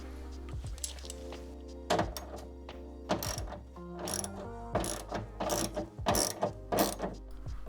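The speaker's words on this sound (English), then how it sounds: "The first step to remove the plate trim is to remove the 8mm retaining nut inside the trunk." Ratchet turning an 8mm retaining nut inside the trunk of a supercharged W203 Mercedes C-Class, close rapid clicking bursts broken by pauses and low thunks, with a steady low hum underneath.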